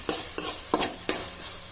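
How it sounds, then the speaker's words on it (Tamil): Tomato sautéing in hot oil for banana stem sambar, with four sharp stirring scrapes of a spoon in the pan, each followed by a brief hiss of sizzling, close and steady with no talking. "சேர்த்து நல்லா இந்த எண்ணெயிலேயே வதக்கி விட்டுருங்க."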